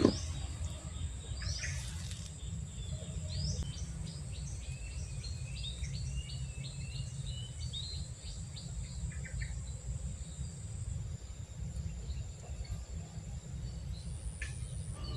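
Birds call from the bushes beside murky water during an outdoor fishing trip, with a steady chorus of insects and a low background rumble; the chirps are faint and scattered, and no one speaks.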